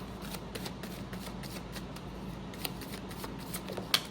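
Tarot cards being shuffled by hand and one card drawn, a continuous close riffling and rustling with soft papery flicks and a sharper snap near the end, no talking.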